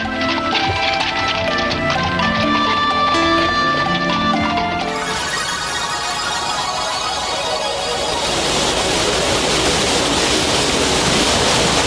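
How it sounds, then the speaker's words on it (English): The Umballfallen, wild waterfalls at the end of the Wergental in Tyrol, Austria, pour out a steady broadband roar of rushing water that swells in after a stretch of soft music and hoof-like clopping. "the Umballfallen, wild and romantic waterfalls at the end of the Wergental"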